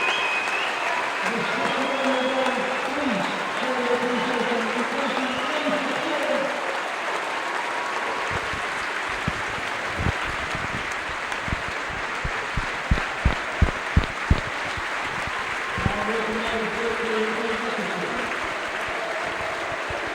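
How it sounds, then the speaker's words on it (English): Football crowd at Blundell Park, Grimsby Town versus Rotherham United, gives a sustained round of applause for a substituted captain, with a commentator talking over it and scattered louder claps and cheers near the end. "Tremendous round of applause."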